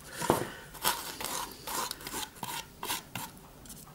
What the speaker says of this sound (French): on peut passer des coups de pinceau verticaux